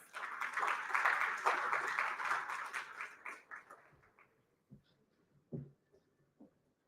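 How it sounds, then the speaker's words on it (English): Audience at an international procurement and supply chain conference in New Delhi welcoming a speaker with a burst of applause that fades over a few seconds into scattered last claps. "Please give him a warm round of applause."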